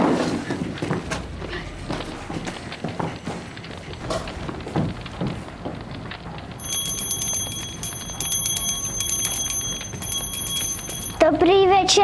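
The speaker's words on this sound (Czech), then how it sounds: "Slyšíte? Něco cinká." Small bells jingle continuously for several seconds, ringing bright and fairly close, after a stretch of footsteps, knocks and room noise; a voice briefly rises at the very end.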